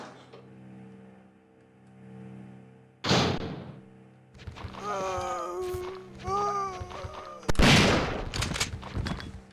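Video game gunshots landing a double headshot: a sharp loud shot around the three-second mark, a cluster of clicks and thuds, then another strong blast near the end, over a steady hum and warbling tones.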